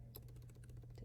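Typing on a computer keyboard, a quick run of light, close key clicks over a low steady hum with no voices.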